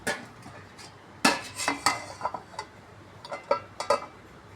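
Metal clatter of a lid and pan being handled over a cauliflower curry: a sharp clank, then several lighter knocks and scrapes, close and alone without talk.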